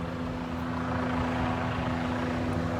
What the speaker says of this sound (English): you can hear that helicopter right above me here